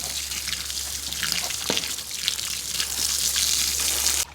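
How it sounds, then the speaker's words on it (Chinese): Water is poured over beef tripe to wash it, a continuous close splashing and gurgling rush that keeps going and swells slightly toward the end. "这样浇上牛百叶洗一下吧"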